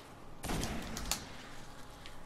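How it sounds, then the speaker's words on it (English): Sniper rifle fired in Destiny, on Earth in the Warmind area: a sharp, loud crack that rings out and fades, with a second fainter burst just after and a low background hum. "I like the old snipper rifle. Let's test it out."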